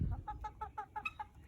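A backyard chicken clucks close by in a quick run of about seven rhythmic, evenly spaced clucks after a brief low thump.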